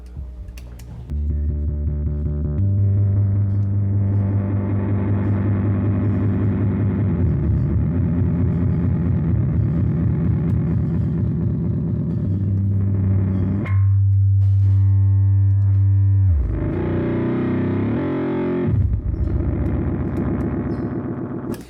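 An electric bass runs through a regenerating delay pedal with an MXR bass compressor, sustained droning low notes stacking into throbbing, distorted repeats that swell and shift, loud and without talk.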